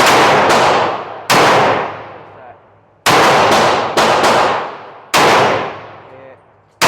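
A Glock 31 Gen4 pistol firing .357 SIG rounds at a range, five sharp, loud reports spaced irregularly, each with a long ringing decay, no talking.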